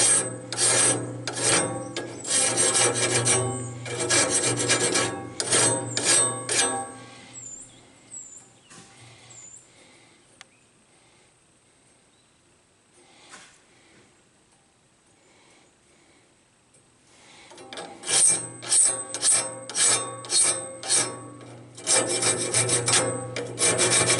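Hand-filing a band saw blade's tooth face after rough grinding: bursts of steady rasping strokes, close and fairly loud, then a quieter stretch before the rhythmic filing resumes.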